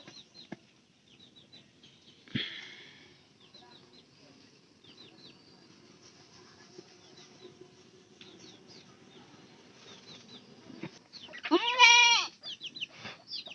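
Chickens on a rural Bangladeshi homestead cluck and chirp faintly through the clip, with a loud burst of squawking and wing-flapping near the end; light background noise throughout.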